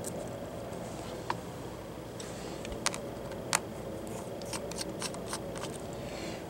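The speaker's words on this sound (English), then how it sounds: "we remove each screw one by one and put them to the side using our PH1 screwdriver" Small screws being backed out of an HP Chromebook 11 G6 EE laptop with a PH1 screwdriver, a few faint separate metallic clicks and ticks spread over a quiet hiss, with no talking.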